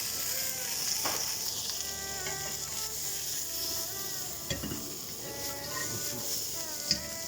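Chicken, broccoli and beans sizzle steadily in hot oil in a stir-fry, a continuous close frying hiss with occasional sharper crackles and spatula scrapes, no talking.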